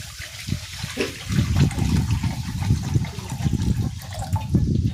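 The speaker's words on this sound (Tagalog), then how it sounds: "Maglalagay na ako dito ng tubig." Water poured into a cooking pan after sautéed garlic and onion, a continuous splashing, gurgling pour at close range with no talking.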